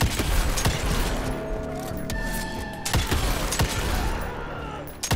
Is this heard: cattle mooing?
no